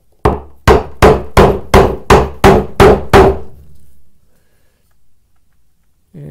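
A hand chisel is struck with a mallet to cut a wood bowtie inlay, giving eight loud, evenly spaced sharp blows in a steady rhythm, close by, then near silence.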